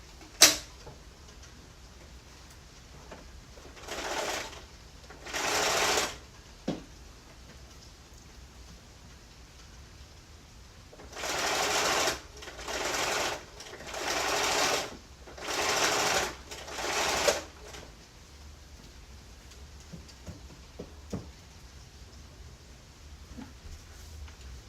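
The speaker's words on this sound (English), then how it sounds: "So this part here is the side where I'm sewing over these two pieces of welt." A sewing machine stitches over two pieces of welt on a slipcover in several short bursts of rapid whirring, with quiet pauses between runs, the longest cluster near the middle.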